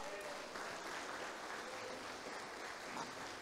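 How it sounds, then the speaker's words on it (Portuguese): A church congregation at a special worship service applauds together, a dense, even wash of many hands clapping at a distance, steady throughout with no distinct single claps. "Só quem crê, levanta um aplauso ao Senhor."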